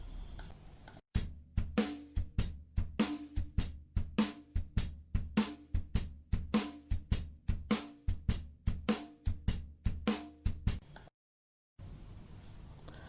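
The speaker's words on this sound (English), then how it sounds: "Now let us listen to some of the common Afro-American styles. The shuffle style." A shuffle-style percussion rhythm plays as a steady stream of crisp, evenly paced drum hits for about ten seconds, then cuts off into near silence.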